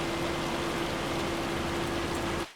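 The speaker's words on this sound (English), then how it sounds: "existing in this hail is actually kind of" Hail falls in the Farming Simulator 25 video game, a dense, even hiss of pelting ice with a steady faint hum beneath, continuous until it cuts off abruptly at the end.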